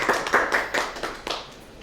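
A few quick hand claps of encouragement, close and sharp in an uneven series, fading toward the end.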